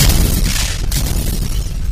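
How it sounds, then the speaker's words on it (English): Loud, continuous rumbling blasts with a dense low roar and crackling bursts, like explosions layered in a dramatic action soundtrack, from a movie trailer, no voices. "Explosions."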